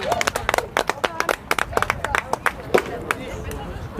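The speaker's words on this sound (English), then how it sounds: "The crowd go wild." Spectators at a women's petanque World Cup match between Turkey and England clap in quick, uneven bursts, with crowd murmur and voices mixed in throughout.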